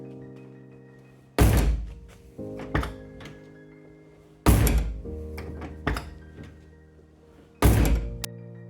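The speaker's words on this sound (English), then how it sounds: "So currently, this is what the door sounds like." The door of a 1992 Mazda Miata with a worn hinge bushing closes three times, each a loud, heavy thunk followed by a smaller rattling knock, spaced a few seconds apart with quiet between.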